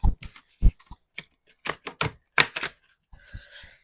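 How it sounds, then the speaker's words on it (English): A tarot deck is shuffled up close, sharp clacking snaps and riffles falling in quick irregular bursts with short pauses between them, crisp and fairly loud, with no voice. "we're going to finish shuffling this deck"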